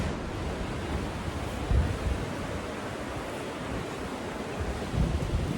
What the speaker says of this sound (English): we get out in the open and it's very windy